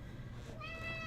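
A pet cat meows indoors, one drawn-out rising meow standing out faintly over a steady low household hum.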